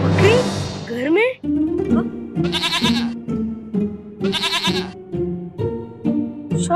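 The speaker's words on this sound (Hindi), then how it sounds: "शेरनी, ये तो प्यारी सी बकरी है।" A goat bleats loudly and close at the start, with several more wavering bleats breaking through over Hindi dialogue and background music on a TV drama set.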